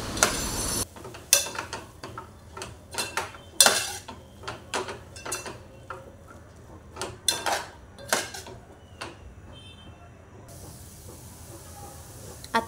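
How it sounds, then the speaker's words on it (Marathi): Cooked shegla leaf vegetable stirred in a pan, a series of close, sharp metallic spoon clinks and scrapes in an irregular rhythm, with a soft steam hiss in the quieter stretches. "आता छानपैकी ढवळून घेऊया भाजी आपण."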